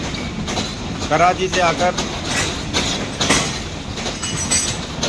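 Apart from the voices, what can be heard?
train with PH-208314 locomotive arriving at Malakwal Junction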